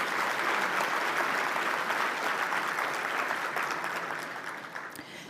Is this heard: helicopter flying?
no